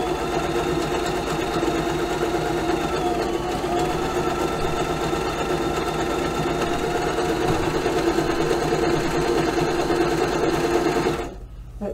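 Mechanical sewing machine stitching close, wide zigzag scallops, a loud, steady rapid clatter of needle and feed running continuously up close, stopping abruptly near the end.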